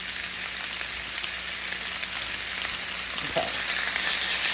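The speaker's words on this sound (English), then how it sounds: "We're just going to fry these up just to get a little flavor." Chicken pieces sizzle and crackle steadily in hot oil in a pan, a close, continuous frying hiss throughout with one brief spoken word.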